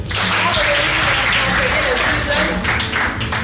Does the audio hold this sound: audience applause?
yes